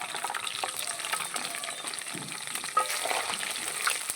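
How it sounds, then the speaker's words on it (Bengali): Whole spices crackling in hot oil for a Bengali aloo chicken curry: dried red chilli, bay leaves, cumin, cardamom, cinnamon and cloves, giving a steady, fairly quiet sizzle with faint stirring and a small pop near the end. "তেলের মধ্যে এই উপকরণগুলো দিয়ে দেবো একটা শুকনো লঙ্কা দুটো তেজপাতা জিরে এলাচ দারচিনি আর লবঙ্গ এগুলো ফোড়নে দিয়ে দেবো"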